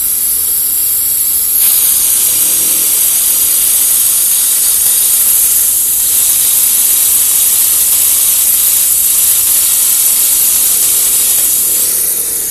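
A pressurised coolant filling device adding water to a car's cooling system gives off a loud, steady, close hiss that runs without a break, growing slightly stronger after the first couple of seconds, with no voices.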